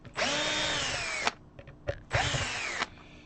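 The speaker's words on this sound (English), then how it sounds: "I'm going to grab my drill" A power drill whirs in two loud, steady bursts of about a second each, spinning up and winding down, with a few small clicks and knocks between them as it is worked on a guitar.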